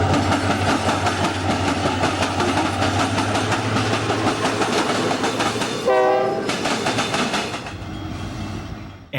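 A Southern Pacific SD40M-2 leads a Union Pacific SD60, a UP C40-8 and an SP tunnel motor across the BNSF diamond at Stockton, with loud steady wheel clatter and engine roar and a short horn blast partway through.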